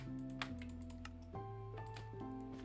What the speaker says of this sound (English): I know you guys can probably hear my keyboard just begging for life